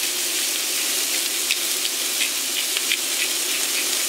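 Onions and bell peppers frying in hot oil in a pan, a steady close sizzle with scattered crackles and small pops running throughout, no talking.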